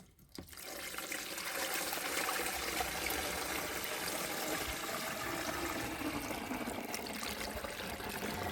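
Rainwater from a barrel pours steadily into a garden sprayer tank, a continuous close trickling splash that holds at an even level throughout with no voices.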